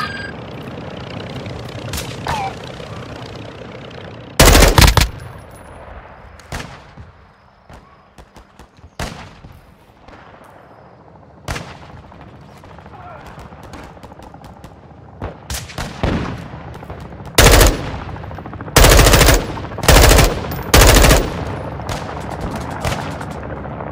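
Bursts of automatic gunfire crack through a Call of Duty Warzone 2.0 match, some short and distant, others loud sustained volleys near the end, over a low rumble of vehicle engine noise.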